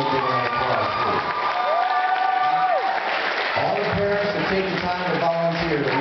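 Crowd at a hypnotist stage show applauding and cheering for volunteer parents, a dense sustained roar of clapping with shouts and children's voices, and a tone sliding through the middle.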